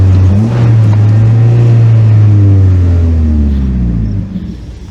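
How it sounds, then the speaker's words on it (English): A Mazda Miata engine drones loud and close, its note holding fairly steady and then easing off near the end. The pitch drops a little as it comes off the throttle, with no clear separate pops standing out. "It pops and crackles when you're coming off."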